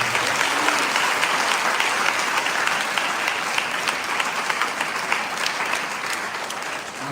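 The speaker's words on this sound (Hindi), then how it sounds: "तो जोर से यीशु मसीह के लिए ताली बजाएंगे।" A church congregation claps loudly and steadily at a worship service, a dense, continuous wash of applause filling the room for several seconds with no voices over it.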